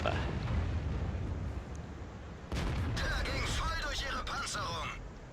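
Tank cannon fire from a Jagdpanzer IV tank destroyer in a World of Tanks-style battle game, heavy rumbling battle noise with a louder burst of shots and clatter midway, mixed under speech.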